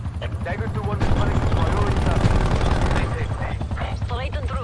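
Helicopter rotor drone under heavy automatic gunfire from a chopper gunner killstreak in a Call of Duty: Black Ops Cold War multiplayer match, continuous and loud, with voices talking over it.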